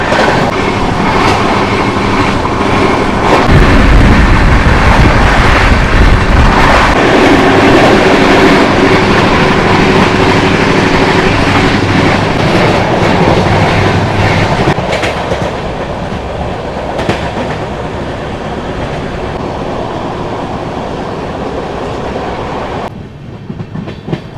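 The 12023 Patna Janshatabdi Express running flat out at 130 km/h through Panagarh railway station, a loud continuous roar with rhythmic wheel clatter, easing slightly toward the end and cutting off abruptly.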